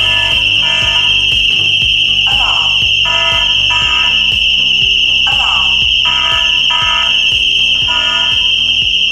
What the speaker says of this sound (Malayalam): ഇപ്പൊ നമ്മുടെ സിസ്റ്റത്തിൽ ദേ ഇവിടെ അലാം അടിക്കാൻ തുടങ്ങിയിട്ടുണ്ട്